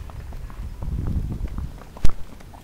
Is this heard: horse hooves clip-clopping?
yes